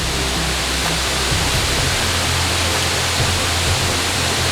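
Patlag Falls roars as a steady, dense wash of falling water, loud and close, unbroken throughout with no voices.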